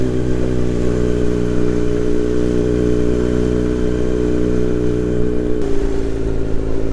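A Kawasaki Z900 motorcycle ridden two-up on an early morning scenic road near Kodaikanal Lake: a steady, loud engine hum at cruising speed, with a sudden shift in engine note near the end.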